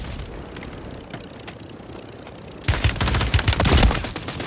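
Call of Duty gunfire: scattered faint shots at first, then from about 2.7 seconds a loud, dense burst of rapid automatic fire and booms crowding together.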